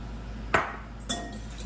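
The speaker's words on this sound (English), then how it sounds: "To this bowl, I'm going to add in my 2 eggs." Two eggs cracked against a bowl one after another while mixing muffin batter, each a short sharp crack and plop about half a second apart, close and alone.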